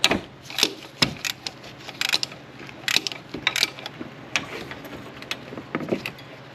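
A ratchet fitted with a wobble extension and socket loosens the thermostat housing bolts on a Toyota Tacoma, giving quick bursts of sharp metallic clicks in irregular groups, close and clear with no talking.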